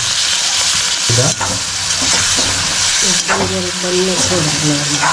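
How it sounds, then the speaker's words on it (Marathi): Oysters fry dry in a hot pan while being stirred and tossed. A loud, continuous sizzle runs throughout, broken by scraping spoon strokes. "तर आपण कालवं पण मिक्स करून घेतो आता."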